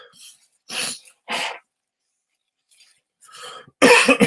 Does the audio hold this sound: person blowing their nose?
yes